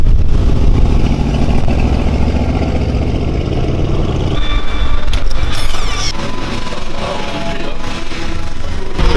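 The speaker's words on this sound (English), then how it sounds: "I love driving this car." Car engine running while driving, a steady loud low drone with road rumble, the tone shifting partway through as the car moves on.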